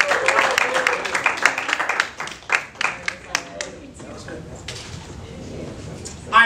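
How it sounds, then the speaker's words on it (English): An audience claps in a burst of dense applause that breaks into scattered individual claps partway through and then fades under a lingering room murmur, fairly close, with a voice speaking over part of it. "Let him a round of applause."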